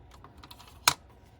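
Paper being cut for a paper craft folio project: one short, crisp snip, close and fairly loud, against a quiet room.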